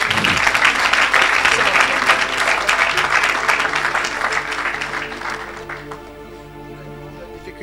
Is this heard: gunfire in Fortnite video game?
no